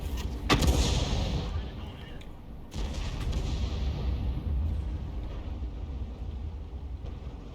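An M53/M55 self-propelled howitzer firing in a video game: a sharp, heavy boom followed by a rumbling tail, then a second blast, with engine-like rumble underneath.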